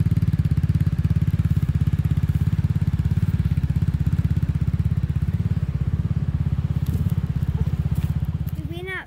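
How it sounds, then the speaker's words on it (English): Motorbike engine running steadily throughout while riding around an island, a continuous low throbbing rumble close up, with wind buffeting and faint talk under it. "we did just got a motorbike, so we're gonna go around the island on this."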